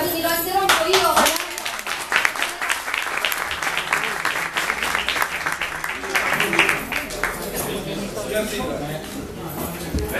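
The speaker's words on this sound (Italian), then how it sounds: "Intanto non abbiamo fatto l'applauso d'accoglienza, quindi lo interrompo io." A welcome round of applause at a town council meeting, many hands clapping briskly in a room and then thinning out, with voices talking over it.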